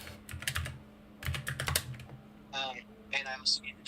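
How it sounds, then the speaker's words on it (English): Close computer keyboard typing in two quick bursts of clacking keystrokes, followed by a person talking, with a low steady hum in the background. "you can hear your keyboard on stream"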